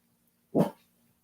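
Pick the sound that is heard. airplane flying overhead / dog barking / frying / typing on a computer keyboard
dog barking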